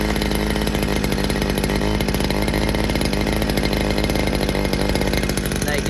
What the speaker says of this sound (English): Just pull the cord, and it should fire up pretty easily